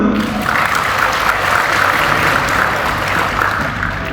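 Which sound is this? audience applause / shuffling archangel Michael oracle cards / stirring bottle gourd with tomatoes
audience applause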